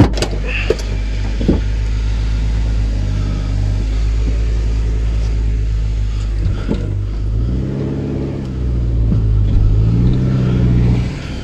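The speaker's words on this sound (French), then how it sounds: "Quart de tour alors qu'elle n'a pas démarré pendant une semaine." A 1996 Honda Civic EK3 engine runs steadily after starting, a loud continuous low rumble with a few sharper revs rising and falling toward the end, close up and with no talking.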